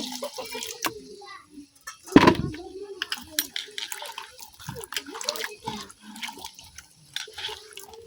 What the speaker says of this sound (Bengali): এদিক দিয়ে আমি এই যে ডাটাগুলো পরিষ্কার করে ধুয়ে নিতেছি